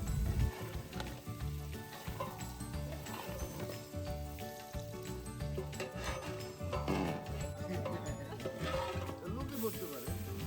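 Chopped onion sizzles and crackles as it is stirred and fried in oil and ghee in a large pot for a village biryani cooked for 150 people, a steady frying hiss with scraping stirs beneath, under talk.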